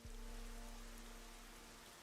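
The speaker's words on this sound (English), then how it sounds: "it's not raining like this all the time. This is a fucking downpour." Heavy downpour of rain in the video game Rain Code, a steady dense hiss of falling water with a constant low hum beneath, continuous and fairly loud throughout with no talking.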